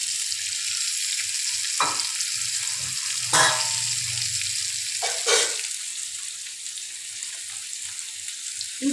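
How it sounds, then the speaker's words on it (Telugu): Fish pieces frying in hot oil in a pan hiss with a steady, close sizzle, punctuated by a few sharp bursts of spattering as pieces are set down, with no talking. "ప్యాన్ హీట్ అయిన తర్వాత ఆయిల్ వేసి ఫ్రై చేద్దాము."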